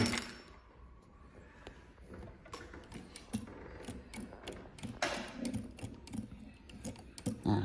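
A sewing machine fitted with a G900 pleating presser foot runs in quick, even mechanical ticks and clacks, steady and close, with faint talk underneath.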